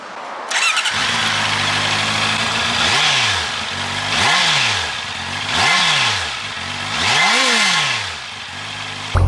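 A Honda CB650R naked motorcycle's engine is cranked and catches, then settles into a close, loud idle broken by four rhythmic throttle blips that rise and fall in pitch.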